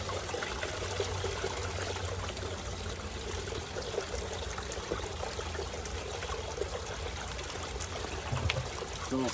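Tap water running onto a Dream Mat during cleaning with a jet dry concentrate, a steady soft trickling stream at moderate distance, continuous and even throughout.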